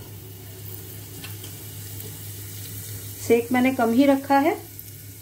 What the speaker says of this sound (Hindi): जीरे को तड़कने देती हूँ